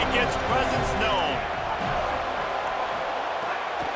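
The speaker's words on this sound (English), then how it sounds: "This crowd ready to make its presence known." Stadium crowd at a college football game against Florida roars in a dense, loud wash of cheering and noise, with broadcast commentary talking over it.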